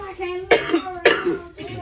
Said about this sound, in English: what the fuck you coughing on?